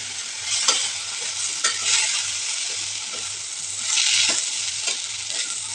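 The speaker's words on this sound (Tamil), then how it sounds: "ஒரு 2 நிமிஷம் நல்லா கிளறி விட்டுட்டு இறக்கிக்கலாம்" Red poha upma is stirred in a hot pan, with a continuous close sizzle and repeated spoon scrapes against the metal recurring every second or so.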